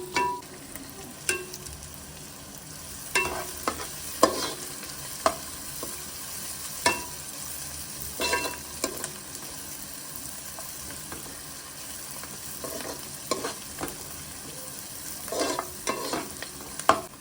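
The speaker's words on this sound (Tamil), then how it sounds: "இது நல்லா கோல்டன் ப்ரௌன் வரைக்கும் நல்லா வதக்கணும்" Chopped onions sauté in a pan for a Tamil-style chicken gravy, a continuous low sizzle broken by intermittent stirring scrapes and clinks of the spatula, with a brief trickle of water.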